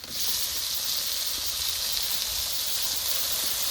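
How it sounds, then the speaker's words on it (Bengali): Onions and tomatoes fry in a pan, giving off a steady, even sizzle and hiss that stays close and continuous with no voices over it. "এবার নেড়ে চেড়ে লাল লাল করে টমেটোটা আর পেঁয়াজটা ভেজে নেব"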